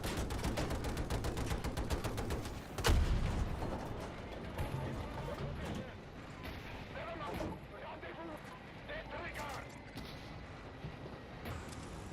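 Rapid gunfire from Battlefield 2042 on PS5 rattles in a fast automatic stream, with a sharp louder blast early on, then scattered shots and battle noise under intermittent voices.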